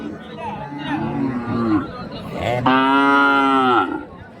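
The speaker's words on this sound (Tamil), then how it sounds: "இங்கே வந்து ஒரு ஜோடி கன்று வந்து இருக்கு பாருங்க" A pair of calves at a livestock market moo in long, harmonic calls close by, one after another, over a steady background of crowd chatter and voices.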